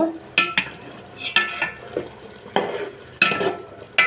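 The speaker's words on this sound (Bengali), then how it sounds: "এখন ভালো করে নেড়ে চেড়ে নিব" Meat frying in a pot for tehari with milk added, stirred in bursts: sharp scraping strokes of a spoon against the pot over a soft sizzle, close up and without talk.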